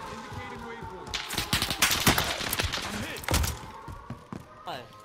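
Rapid machine-gun bursts and single shots crack out in a Warzone battle royale match, loud and clustered in the middle with thuds between, while a player's voice is faintly audible in the background.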